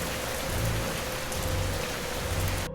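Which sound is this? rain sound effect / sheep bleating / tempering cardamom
rain sound effect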